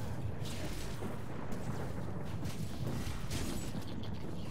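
Dense, rumbling explosions from Crusader skills in Diablo 3, a continuous heavy roar of blasts with sharper bursts layered on top, loud and close, with no talking.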